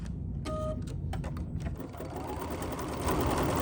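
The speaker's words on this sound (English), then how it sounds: "And now this is gonna stitch." An embroidery machine stitching, with close, steady mechanical rattling and rapid needle clatter running throughout, a few brief tonal clicks near the start and the hum growing slightly louder at the end.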